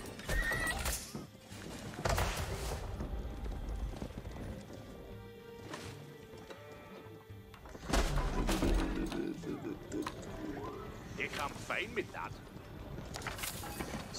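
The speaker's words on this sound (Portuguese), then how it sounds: "Cavalo pra caralho aqui, parceiro." Cavalry horses in Age of Empires 4 neigh and whinny repeatedly over clip-clopping hooves and battle noise, all loud and close.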